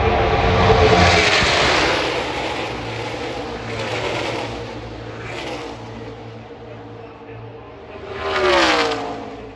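NASCAR stock cars racing at Talladega Superspeedway in the 2020 YellaWood 500 on a sunny day, a loud continuous engine roar with a fresh rise near the end as the field comes off turn 4.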